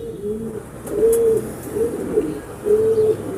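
A home-bred female racing pigeon coos in a soft, rolling, repeated rhythm, close and clear, with no talk.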